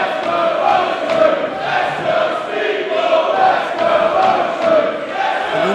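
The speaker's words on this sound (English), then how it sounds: "just the sound of that crowd is going to fire up Michael Oku" Crowd at a professional wrestling event chanting and cheering, loud and sustained, with rhythmic swells of voices filling the hall throughout.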